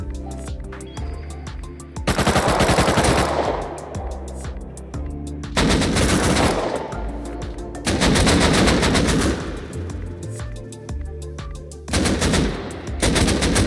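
Bursts of AK rifle gunfire in Rust Console Edition, loud and close, fired in four separate rapid volleys with short pauses between them and no talking.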